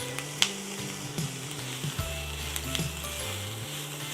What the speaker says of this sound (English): Now you want to cook the onions down until they become soft and translucent.